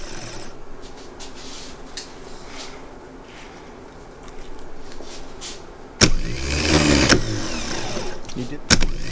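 Voices talk over faint clicks and shop noise around a 1973 Saab Sonett that has sat for 37 years, then its starter abruptly cranks the engine with a loud, harsh whirring grind that runs to the end, ending in a brief second burst.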